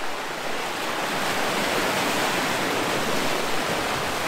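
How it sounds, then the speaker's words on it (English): Sea waves crash across coastal rocks beside a deep pool, making a continuous loud, broadband roar of surf and spray with no distinct individual breaks and no voices. "these waves crush across the rocks here"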